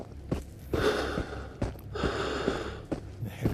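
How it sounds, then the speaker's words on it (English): A character in the video game Into the Radius breathes heavily, with a series of loud gasping inhales and exhales in an uneven rhythm and no speech. "heavy breathing."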